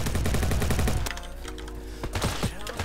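Rapid automatic gunfire from a weapon in the Roblox shooter Bad Business, dense and loud at first, then thinning into scattered single shots and short bursts over continuous game noise.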